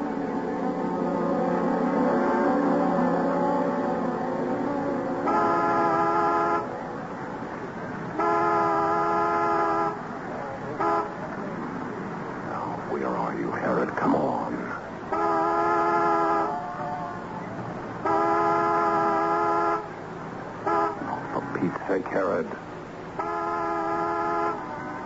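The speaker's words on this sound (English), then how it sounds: "honk the horn as a reminder. Make it 2 long, 1 short." A car horn honks in a pattern of two long blasts followed by one short toot, repeated several times, loud and close over a steady low engine rumble.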